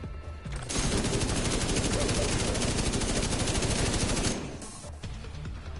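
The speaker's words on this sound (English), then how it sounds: "I'll set up the turret now." A deployable turret in The Division 2 fires a sustained rapid burst of automatic gunfire lasting several seconds, loud and close, then cuts off, with quieter game ambience before and after.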